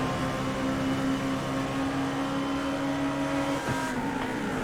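Race cars in a GT3 racing video game at Atlanta, engines droning steadily and continuously at close range, with a tonal whine that dips near the end as traffic is lapped.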